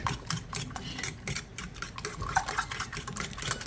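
Ingredients for an egg breakfast dish with hot sauce, salt and pepper are mixed in a bowl, producing close, quiet, rapid clinking and scraping strokes of a utensil against the bowl, without talking.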